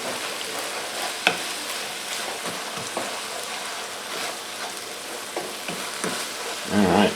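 Chicken frying with soy sauce in a pan for lettuce wraps, giving a continuous close sizzle with scattered scrapes and taps of stirring and a louder clatter at the end.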